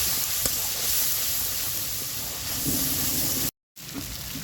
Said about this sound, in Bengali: লবণ হলুদ দিয়ে মশলাটাকে ভালো করে কষিয়ে নিচ্ছি